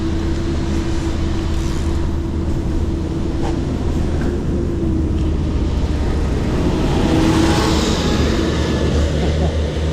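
A large HS2 construction vehicle passes on a rural road between Quainton and Calvert, heard as a loud, continuous heavy-engine rumble with broadband road roar that swells toward the end, no speech.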